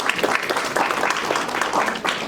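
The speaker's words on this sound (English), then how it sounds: "let's give one last round of applause for Murat and Mika." Sustained applause from an audience at the end of a talk, a thick, even wash of many hands clapping throughout.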